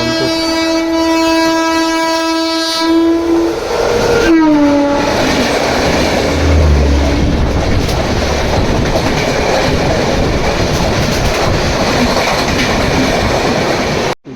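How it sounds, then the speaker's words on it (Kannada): A train sounds a long, loud horn as it approaches and then rushes past close by, followed by a sustained rumble and rattling clatter of the wagons that continues to the end. No voices. "ಯಾವುದೋ ಟ್ರೈನ್ ಬರ್ತೈತೆ ಆ ಸೈಡಿಂದ"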